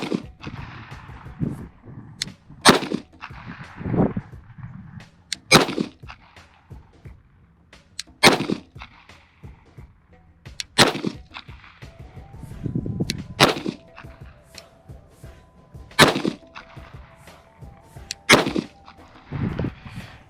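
Kimber Black Ice Rapide pistol fired at a target from 5 yards, a series of sharp loud gunshots spaced irregularly a second or more apart, with quieter handling noise between.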